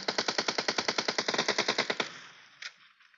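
Rapid automatic MP5K gunfire in PUBG Mobile, a tight burst of about twenty evenly spaced sharp shots lasting two seconds, loud and close, then a brief pause and one faint distant crack.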